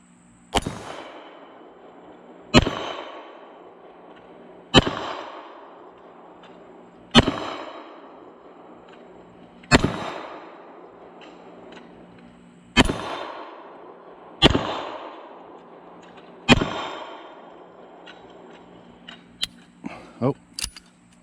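Eight sharp .45 ACP shots from a Sig Sauer 1911 pistol fired at a steel spinner, evenly spaced about two to two and a half seconds apart, each a loud crack with a ringing metallic tail, followed by a few fainter clinks.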